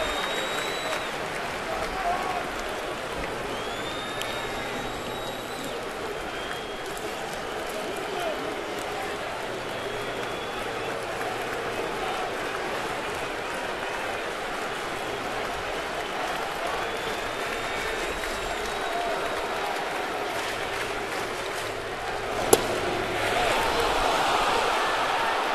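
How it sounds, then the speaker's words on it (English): A Yankees home crowd at a 2009 playoff game against the Twins keeps up a steady, roaring cheer and applause across the stadium, swelling briefly near the end, with an announcer talking over it. "You hear this crowd totally into the game."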